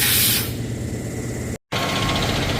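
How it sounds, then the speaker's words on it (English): Compressed air blasting out a combine harvester's radiators, a loud hissing rush that starts strong, settles into a steady spray, cuts out briefly and resumes, with an engine idling underneath. "blowing the radiators out."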